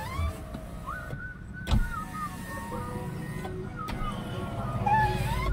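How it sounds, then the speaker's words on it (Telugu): A Maruti Suzuki Swift Dzire's electric power window motor whirs as the glass moves, with the car's steady hum underneath and a click or two between runs. "చూడండి ఇప్పుడు పవర్ విండో కూడా పనిచేస్తుంది."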